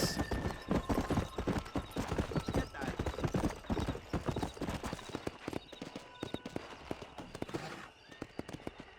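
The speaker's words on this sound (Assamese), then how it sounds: "ঘোঁৰা ৰেচ।" Galloping horses pound in a steady, rapid clip-clop rhythm during a race in the Red Dead Redemption video game, loud and close for the whole stretch, with occasional whinnies and faint game voices mixed in.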